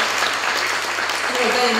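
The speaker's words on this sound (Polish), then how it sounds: "gromkie brawa by się przydały" Audience at a youth theatre group performance in Marklowice Górne gives a steady, dense round of applause, with some talk mixed in toward the end.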